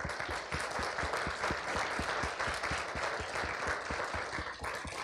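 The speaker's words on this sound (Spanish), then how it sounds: "Aplausos, por favor." Dense, steady applause from a church congregation at a pastor appreciation service, holding at full strength throughout, with a regular low thumping beat running underneath.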